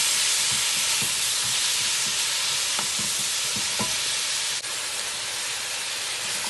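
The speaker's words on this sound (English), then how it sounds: "Just gonna saute this" Gravy base for brown stew fish sautéing in a pan, a steady, loud hiss and sizzle running throughout with a few soft stirring clicks, no talking.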